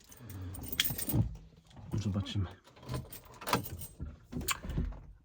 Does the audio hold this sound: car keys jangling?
yes